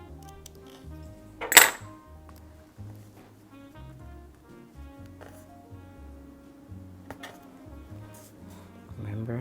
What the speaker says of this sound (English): I'm gonna snip this in half.